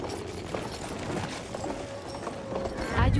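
Rapid hoofbeats of a galloping horse in Battlefield 1 over a busy game soundscape, steady and moderately loud, with a low thump near the end.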